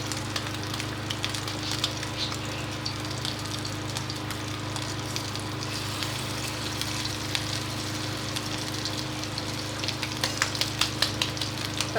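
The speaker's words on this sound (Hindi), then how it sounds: "अब हम इसको कबाबों को इस तरह से हथेली के बराबर रख के डाल देंगे।" Chapli kebabs fry in oil over a low flame, giving a steady, dense sizzle and crackle throughout with a low hum underneath and a few small pops near the end.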